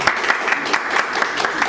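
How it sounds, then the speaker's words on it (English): An audience at a workshop gives brief, fairly close applause, a dense burst of many hands clapping steadily with no one speaking over it. "Please clap for it."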